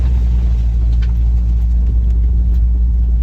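Car engine idling low and steady as the vehicle creeps slowly over a slippery, muddy gravel road while soft roading, a continuous close rumble with no talk.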